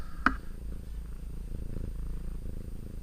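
A cat purrs steadily up close in a workshop, a low continuous rumble, with a brief sharp click near the start.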